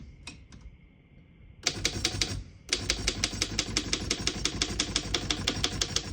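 A 1912 Underwood No.5 antique desktop typewriter clacks as keys are struck in a fast, even rhythm, close and crisp, with a short pause after the first burst before steady typing resumes.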